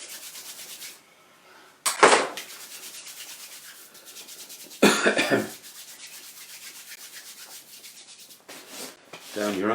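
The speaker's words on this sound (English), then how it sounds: "rub your hands together" Hands rub briskly together in short bursts of dry, close friction, with pauses between them.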